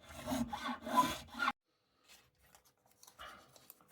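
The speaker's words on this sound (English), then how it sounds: "So we'll just give the first 4 frets a bit of a recrown." A file scrapes in quick back-and-forth strokes across the frets of an Epiphone Les Paul Custom Chrome guitar, close and brisk, then stops, leaving faint small scrapes and taps.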